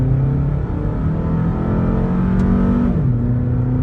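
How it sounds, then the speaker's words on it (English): A car's engine drones steadily and loudly from inside the cabin as it launches and pulls hard, its pitch holding and then dropping at a gear change near the end. "Are we gonna launch it? We're gonna launch it."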